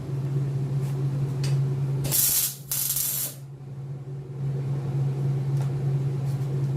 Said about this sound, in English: let me throw a weld up or a tack first right here